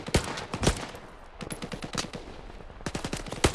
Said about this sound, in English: I'm wasting so much bullets here.